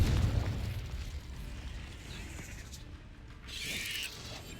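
Confringo blasting spell explosion in Hogwarts Legacy: a single booming burst at the start that fades into a low rumble, followed later by a faint crackling hiss.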